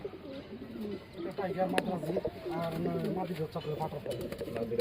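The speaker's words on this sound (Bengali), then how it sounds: "এই দেখেন কবুতরটা দেখেন, মানে ও ডাকতে ডাকতে পাগল হয়ে যাচ্ছে ভাই" Male pigeon cooing repeatedly at a Bangladeshi pigeon farm, its low throaty coos rolling in rhythmic bursts close by, with someone talking over and between the calls.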